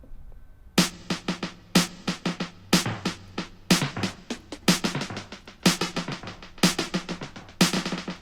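Snare drum played in a repeating pattern through a Valhalla Delay plugin in dual mode, with independent left and right delay times; each loud crack is followed by a cascade of quick echoes, steady and close, with no voice.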